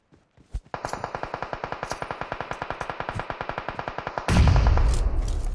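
Rapid automatic gunfire in PUBG Mobile, a long steady burst of evenly spaced loud shots, followed by a heavier rumbling blast near the end.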